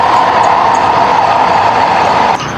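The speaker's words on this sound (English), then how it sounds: "We have the train." A train passes nearby with a loud, steady rumble and roar that holds evenly before dropping off abruptly near the end, with no voices.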